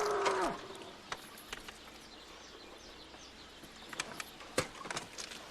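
A single bull lets out a brief, close moo at the start, followed by faint scattered clicks and knocks and soft bird-like chirps over a quiet background.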